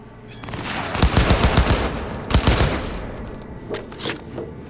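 Rapid bursts of gunfire in the Cyberpunk 2077 video game, a dense volley of loud, clustered shots in two main flurries followed by a few fainter single shots, with no talking.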